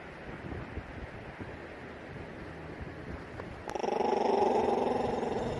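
A hooded seal growls in a low, rough rumble that swells louder near the end, over wind and surf-like background noise.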